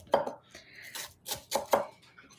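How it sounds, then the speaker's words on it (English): A knife chops through half an onion on a board in a home kitchen, giving four or five crisp, close thuds in an uneven rhythm. "Now we'll put one onion over there, half of the onion. We'll just cut the onion."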